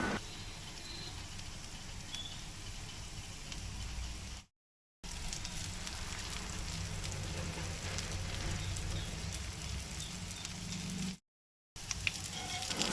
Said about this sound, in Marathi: ती सगळीं सुंगटां आतां तव्याचेर घालता